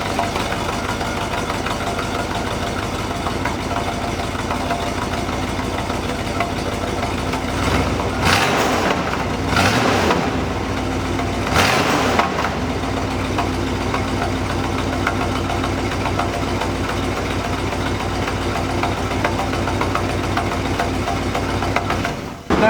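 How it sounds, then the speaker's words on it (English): A vintage police car's engine idles steadily on its stock exhaust, a loud continuous low rumble with a brief dip and surge midway, no talk over it. "get an exhaust note with the car right now"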